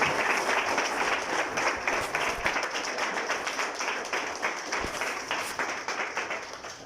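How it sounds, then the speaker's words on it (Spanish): Applause from a church congregation praising the Lord, a dense, steady wash of many hands clapping that stays loud throughout with slight rhythmic pulsing and no talk over it. "El aplauso al Señor."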